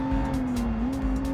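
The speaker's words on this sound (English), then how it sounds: "braking into this corner now." A race car in the BeamNG driving game braking into a corner, its steady engine drone dropping slightly in pitch mid-way, close and continuous with faint tire noise.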